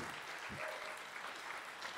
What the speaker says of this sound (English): Let's give a little round of applause for the band